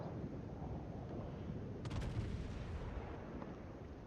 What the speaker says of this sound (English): Getting some shots on the Seattle.